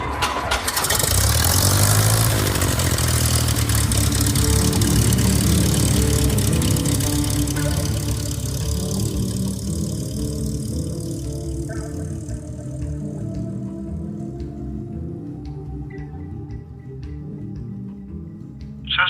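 A light aircraft's propeller engine cranks and catches, roaring loudly at first, then settling into a steadier, fading idle over the following seconds, alone without talk.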